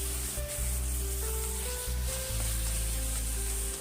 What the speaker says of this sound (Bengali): আমি ওর মধ্যে হালকা একটু জল দিয়ে দেবো, যাতে সেমাইটা লেগে না যায়।